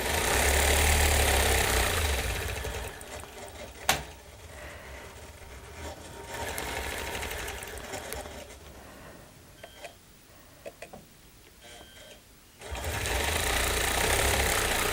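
Quilting sewing machine stitching crosshatch circles, its steady motor hum running loud at the start, softening through the middle with a few sharp clicks, then rising again at the end.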